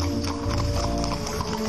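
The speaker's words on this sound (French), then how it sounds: "on peut entendre le son des sabots d'un cheval fantomatique" Hooves of an unseen horse clip-clop in a rapid, steady rhythm on a haunted Paris street, fairly close and loud over a low background hum.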